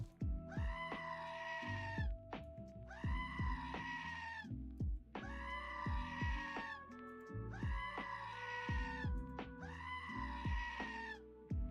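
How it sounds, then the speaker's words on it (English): A screaming goat button in the video game House Flipper 2, pressed over and over: five long, loud, harsh bleating screams in a steady repeating rhythm, each separated by short thumps, with no talk. "But we can get the screaming goat button"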